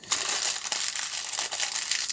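Crisp, continuous crinkling and crumpling of wrapping material as homemade processed cheese is wrapped by hand, close and steady with no talking.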